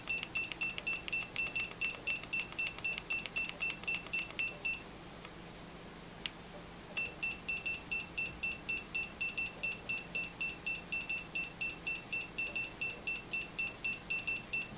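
A multimeter in continuity test mode emits a rapid, evenly pulsed high beep that stops for about two seconds and then resumes at the same quick rhythm, clear and alone.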